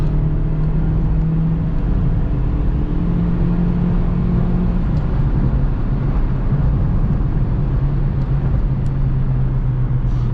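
Car engine of a Seat Ibiza or Opel Astra F with five-speed gearbox, downshifted to third and revving hard, a steady loud drone holding throughout without talk.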